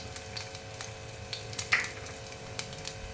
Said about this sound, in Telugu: ఆవాలు వేగుతున్నాయి కొద్దిగా మినపప్పు కొద్దిగా పచ్చిశనగపప్పు